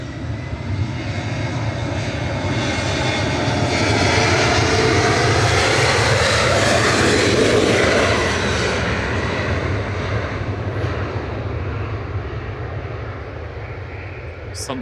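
A Ryanair jet passes at Manchester Airport, its engines making a broad, loud roar that swells and sweeps through its peak midway before slowly easing, while people talk over it throughout.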